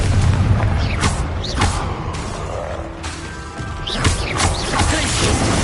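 Rapid spell combat in Hogwarts Legacy, with booming, crashing blast impacts from the Confringo spell landing amid other magical bursts and whooshes, loud and dense throughout with no clear pauses.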